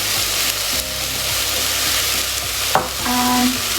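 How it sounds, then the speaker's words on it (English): Garlic soup stirred in a pot after thyme, salt and black pepper go in, giving a steady sizzling, scraping stir with a few sharper knocks of the spoon against the pan, close and loud, no talking. "And stir it."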